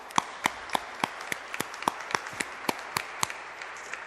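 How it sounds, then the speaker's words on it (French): A church congregation claps for the performers at a December Advent service, heard as a sparse, irregular run of about fifteen distinct, fairly close hand claps with no talk. "C'était tellement beau qu'on les applaudit,"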